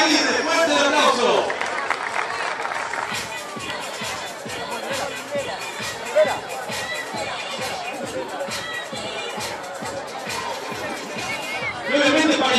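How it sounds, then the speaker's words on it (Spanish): A party crowd claps in steady rhythmic unison, a long run of even beats cutting through a background of lively chatter and murmuring voices. "¡Fuerte el aplauso!"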